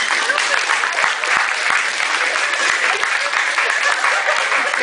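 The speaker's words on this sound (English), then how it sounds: "Let's give another round of applause," Sustained applause from a high school audience, dense steady clapping that holds at an even level throughout.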